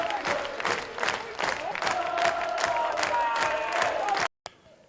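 Jubilant Workington Town rugby league crowd at Derwent Park cheering and clapping after a 20–18 win over Featherstone Rovers, a loud sustained roar with whoops and voices, cutting off abruptly near the end.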